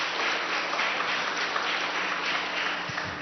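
A church congregation applauds together during a Korean sermon on thanksgiving, a steady, even wash of many hands clapping that holds at a constant level throughout, with no voices heard.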